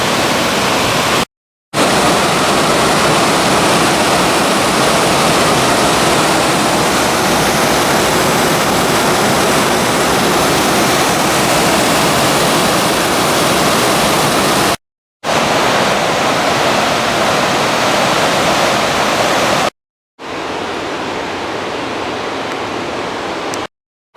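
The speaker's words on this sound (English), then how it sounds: "the Loyalsock Creek rumbles in the haystacks." Loyalsock Creek rumbles through the haystacks rapids, a loud, continuous rushing roar of whitewater heard up close, broken by a few abrupt silent gaps between segments.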